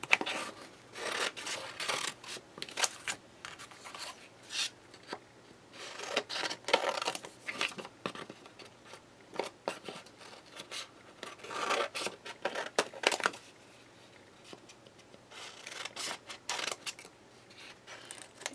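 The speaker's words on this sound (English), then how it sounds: "the first thing I'm going to do is just rough cut them and separate them" Scissors roughly cutting apart paper pieces for a texture craft project, giving a run of close, uneven snips and rustling paper with short pauses and no talking.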